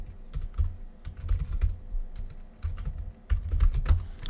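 Fast, uneven clatter of keys on a computer keyboard as code is entered, with bursts of keystrokes separated by short pauses, close and fairly loud.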